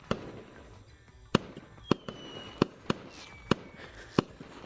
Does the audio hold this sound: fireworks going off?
yes